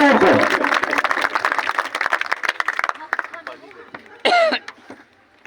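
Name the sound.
applause from audience at election corner meeting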